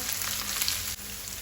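Onion with green chili and ginger-garlic paste frying in a pan for a Goan squid chilli fry, a steady, close hiss and sizzle without a break.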